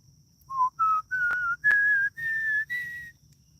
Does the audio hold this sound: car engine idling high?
no